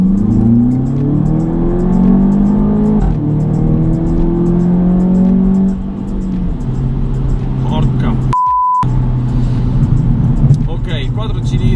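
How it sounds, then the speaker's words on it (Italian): A stage 2 tuned 300 hp Audi TT mk3 four-cylinder engine climbs through rising revs, loud and close, then settles to a steadier drone. A short electronic beep sounds near the end, followed by a few brief bursts of revving. "Il motore 4 cilindri non è nulla di nuovo"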